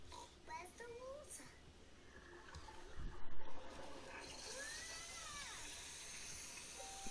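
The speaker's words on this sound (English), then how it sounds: "Peppa holds the hose, and Daddy Pig turns on the water" In an animated cartoon about cleaning a car, a garden hose sprays water: a faint, steady hiss starts after a soft thump and keeps going, with a voice and other cartoon sounds alongside.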